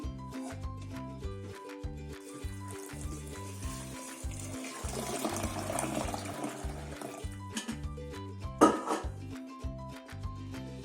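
A stream of water pours into a pressure cooker holding rice over a few seconds, rising and fading, beneath steady rhythmic background music.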